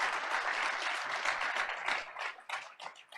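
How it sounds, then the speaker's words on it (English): An audience at a school board meeting breaks into a big round of applause for a police chief, loud dense clapping from many people in a room that begins to thin and scatter near the end. "So if we could please give Chief Paulino a big round of applause"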